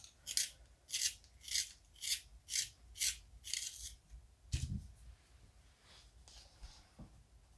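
A pencil being sharpened during a coloring session, about seven rhythmic scraping strokes up close, followed by quieter handling and a soft thump.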